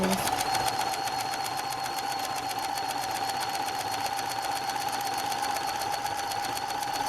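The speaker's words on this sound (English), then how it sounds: "now that I have the sewing machine all threaded up, I am going to continue to finish creating these buttonholes" A sewing machine stitches buttonholes with a fast, steady mechanical whir and rapid needle clatter, close and continuous throughout without pause.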